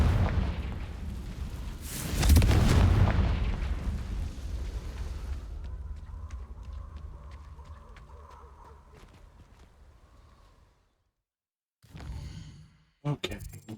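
Confringo fire spell blast in the video game Hogwarts Legacy, a loud booming burst that rolls out and decays over several seconds with crackling debris, followed by a short silence and then brief game effects.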